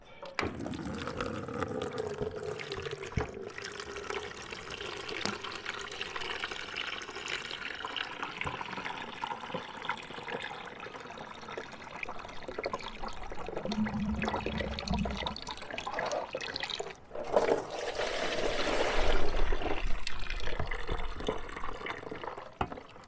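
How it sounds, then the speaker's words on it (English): Hot coolant draining from a tractor engine during a piston ring repair, a steady continuous splashing pour of liquid that runs throughout, growing louder and fuller near the end. "And now I will just drain the coolant."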